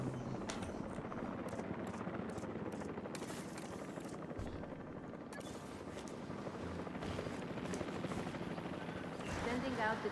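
A drone in Jurassic World Evolution 3 hums faintly with a steady rotor whir throughout, low in the mix, with speech and a few clicks on top.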